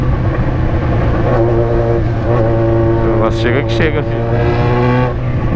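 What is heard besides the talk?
car exhausts popping and revving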